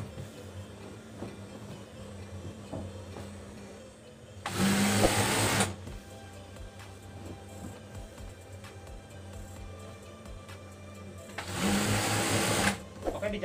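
Sewing machine stitching a torn bed cover, running in two short loud bursts of steady mechanical whirring, close by, separated by quieter stretches where a person talks.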